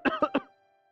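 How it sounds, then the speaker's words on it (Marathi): A man coughs three times in quick succession, close and fairly loud, the coughs fading into quiet. "केवढा खोकतोयस? पाणी तरी पी जरा."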